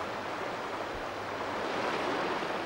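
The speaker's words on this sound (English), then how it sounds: "the trickle from the peat bogs has broadened to a powerful flow, fed by scores of small streams bursting off the upland" A powerful river on Dartmoor, swollen by many small upland streams, rushing in a steady dense roar that fills the whole moment without pause.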